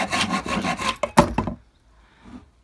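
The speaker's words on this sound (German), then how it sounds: "Gut, sägen wir das andere weg." A handsaw cuts through wood from old furniture, close rasping back-and-forth strokes in quick rhythm that end with a final louder stroke, followed by near silence.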